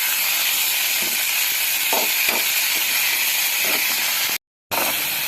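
Palak spinach is sautéed in a pan with onion, tomato and green chili for green chicken gravy, giving a steady loud hiss with a few soft clicks and a brief drop to silence.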